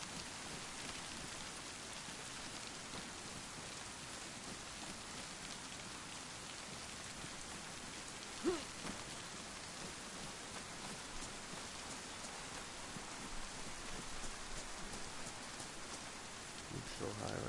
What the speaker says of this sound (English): You can't hear because of the rain.